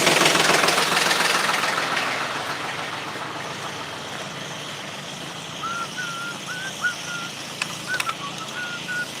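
A 1991 Ford F450 with a non-turbo 7.3 IDI diesel warming up, giving a steady broadband rumble that is loudest at first and then settles, with intermittent beeping tones near the end.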